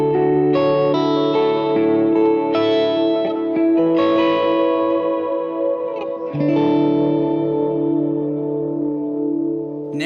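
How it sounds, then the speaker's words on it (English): An electric guitar plays through a dual delay preset selected on a Morningstar MC3 controller, sustained chords and notes ringing out with layered repeating echoes that trail and blend over each new strum. "this is my dual delay setting"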